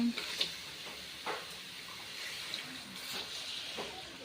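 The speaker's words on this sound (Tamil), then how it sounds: "இப்போ நம்ம தண்ணி ஆட் பண்ணி நம்ம நல்லா கொதிக்க விட்டோம்னா" Water poured into a pot of crab curry (kan nandu kuzhambu) cooked village style, a steady broadband splash and trickle with a few brief clinks, moderately close and with no talk.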